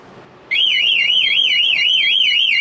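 A van's security alarm blares at close range after arming, a loud warbling electronic siren sweeping up and down steadily after a brief quiet lead-in.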